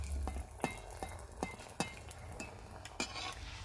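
Spicy pitha frying in oil, with soft sizzling under a series of sharp clinks and scrapes from a utensil spooning oil over the top, spaced irregularly and close up.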